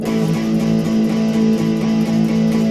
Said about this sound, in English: Now if I played it flat, it'd sound like this.